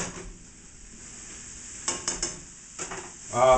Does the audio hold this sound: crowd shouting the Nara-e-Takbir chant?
no